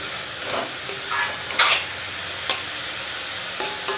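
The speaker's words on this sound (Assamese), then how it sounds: "নাৰিকলখিনি হৈ গৈছে মই প্ৰায় 3 মিনিট সময় মিডিয়াম ফ্লেমত ভাজিলোঁ" Grated coconut stirred in a hot pan over a medium flame with a soft sizzle, punctuated by a few sharper scrapes of a spatula against metal.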